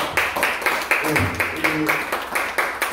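Audience clapping at a Korean vocational school event, a steady patter of hands in rhythmic bursts, fairly close and loud, with a voice speaking faintly underneath.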